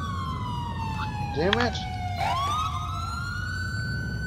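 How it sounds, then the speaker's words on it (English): Police car siren in the video game GTA IV, a loud electronic wail that sweeps down, breaks into a rapid yelp, then resumes, with a man briefly cursing over it. "Why is my siren on?"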